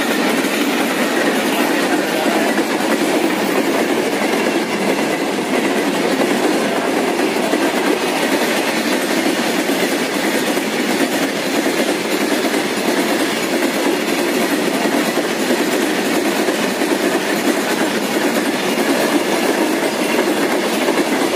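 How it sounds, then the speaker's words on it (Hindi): A train rolls past close by on an Uttar Pradesh railway line, with a steady, loud rumble and clickety-clack of wagons on the rails that keeps up without a break for the whole stretch and carries no talk. "ट्रेन आने वाली है इस पे आप लोगों को दिखाते हैं लाइव देख सकते हो ये ट्रेन आ रही है"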